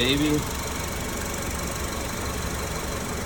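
Car engine running with the A/C compressor engaged, giving a steady low vibration and hum throughout; a brief faint voice-like sound at the very start, then continuous even mechanical noise.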